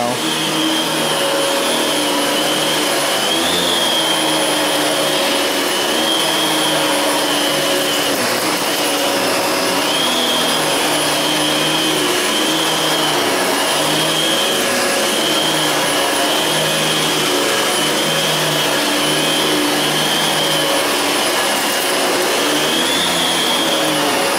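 Fantom Cyclone vacuum cleaner droning continuously at close range, a loud steady whine with slight wavering pitch as it moves across the floor, no voices.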